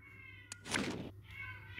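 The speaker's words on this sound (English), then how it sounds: "Sorry about my cat," A house cat gives one drawn-out meow near the microphone, preceded by a small thump, during a mobile fighting game session with electronic game sounds in the background.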